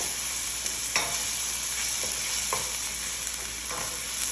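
Onion, ginger and garlic sauté in a pan with a continuous sizzle close by, while a spoon scrapes and stirs in short, irregular strokes. No one talks.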